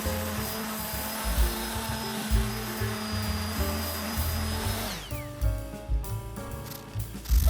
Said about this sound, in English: Got the random orbital sander here to get a smooth surface.